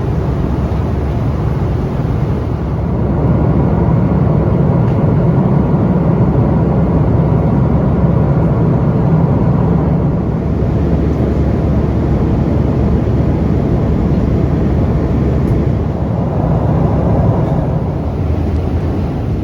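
Steady, loud broadband engine roar and airflow drone inside an American Boeing 777-200 airliner on final descent into Miami, continuous and unchanging for the whole stretch with no talking.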